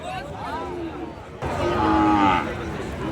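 A Sahiwal cow lets out a long, loud moo at a cattle market against a busy background of crowd chatter and livestock noise.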